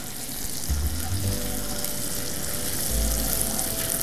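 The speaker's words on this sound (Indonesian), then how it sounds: "Bawang bombay kita tumis sampai dia sedikit melunak," Chopped onions sauté in a hot pan, giving a soft, steady sizzle and crackle with a low background hum and a few duller knocks.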